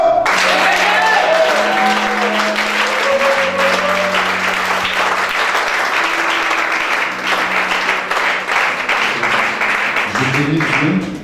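A church congregation claps loudly and continuously for the Lord, dense sustained applause with a voice speaking over it throughout.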